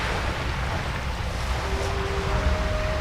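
Ocean waves wash continuously in World of Warcraft ambience, a loud steady surf roar with faint thin tones drifting over it.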